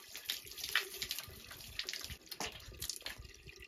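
Cold water runs from an outdoor tap as hands are washed beneath it, a continuous splashing stream with uneven spatters and drips, close and fairly quiet.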